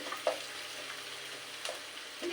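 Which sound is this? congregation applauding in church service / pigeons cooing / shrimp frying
shrimp frying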